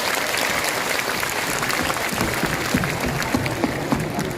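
A large seminar crowd at an RCM event in Patna claps together, a dense, sustained roar of applause with a few sharper individual claps popping out near the end.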